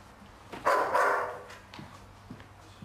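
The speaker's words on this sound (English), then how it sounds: "What's he barking at? He's just barking at the wall." A dog barks once, loudly but at some distance, inside a reputedly haunted building in Manchester, followed by a few faint knocks against a quiet room background.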